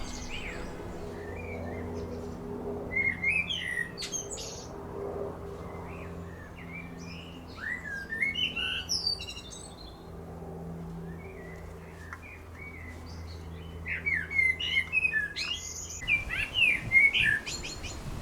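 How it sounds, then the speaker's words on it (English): A blackbird singing outdoors, short fluting and chirping phrases repeated at intervals from moderate distance over a faint low hum, growing busier toward the end. "Even the blackbird sounds impressed."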